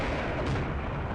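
Sustained gunfire and explosive booms in a combat scenario, a dense, loud, continuous roar of shots filling the whole moment without speech.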